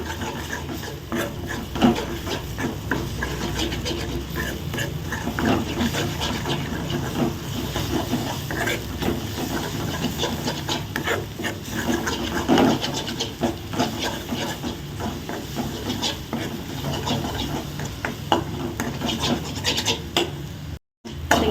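Scrambled egg is stirred in a pan over a high flame, giving steady scraping and rubbing strokes over a continuous sizzling hiss. The sound is close and has no talking over it.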